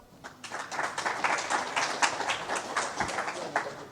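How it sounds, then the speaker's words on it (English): Scattered clapping from a tech-conference audience, a steady dense patter of many hands lasting a few seconds, moderately loud in a hall with no voices over it. "Let's give a next round of applause for Peter Chestna"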